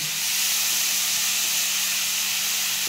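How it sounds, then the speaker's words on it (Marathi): Chana dal and chili sizzle in hot oil in a pan, a loud, continuous close frying hiss that holds steady throughout with no talking. "आता हरभरा डाळ टाकून घेतली आकांची चांगलं."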